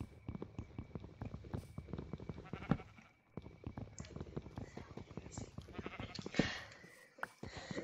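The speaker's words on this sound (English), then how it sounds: "it's time I kill this sheep so I can get the wool" A sheep bleats in the Minecraft video game amid rapid clip-clop footsteps and other in-game clicks, with a voice talking over the sounds.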